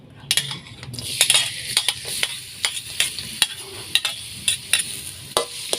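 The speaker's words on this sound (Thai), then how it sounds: "เดี๋ยวสิเจียวกระเทียมให้มันหอมซะก่อนเนาะ" Garlic fries in hot oil in a pan while a metal utensil stirs it, making a busy run of sharp scrapes and clinks over a continuous crackling sizzle, near and fairly loud, with no voices.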